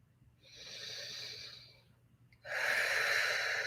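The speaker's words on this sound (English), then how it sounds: "Breathing deeply." Two deep breaths during a singing warm-up, a long airy inhale followed by a pause and then a stronger, louder breath, close and alone without speech.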